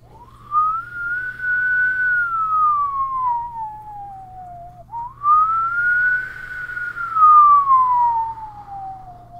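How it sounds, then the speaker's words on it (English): A siren outside wails in two long rising and falling sweeps, steady and fairly loud, with no voices over it. "Ooh, I hear sirens outside."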